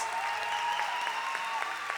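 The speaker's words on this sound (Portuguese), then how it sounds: "Dê uma grande salva de palmas" A church congregation applauds for a young deacon, a steady even wash of many hands clapping at moderate distance with no voices over it.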